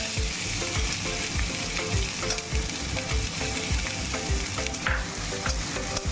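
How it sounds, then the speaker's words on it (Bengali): Chopped onions fry in hot oil with whole cumin for an egg dal tadka, sizzling loudly and steadily while a spatula stirs and scrapes the pan in repeated strokes. "কুচনো পেঁয়াজটাকে ভালো করে ফ্রাই করে নিতে হবে।"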